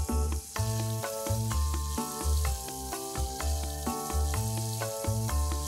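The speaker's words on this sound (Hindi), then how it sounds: "प्याज को हम थोड़ी देर के लिए भून लेते हैं।" Chopped onions and tomatoes fry in a pan for tomato rice, with a steady close sizzle and hiss running throughout under faint stirring.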